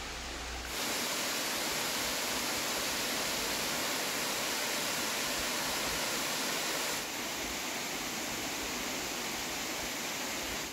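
A river flowing on its way toward the Rhône, a dense, even roar of rushing water with no breaks, loud and close, with no voices.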